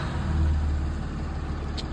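A Ram Cummins 6.7L diesel engine, just back from a turbo actuator replacement, idles with a steady deep low rumble that carries on throughout, close by and continuous with no talking.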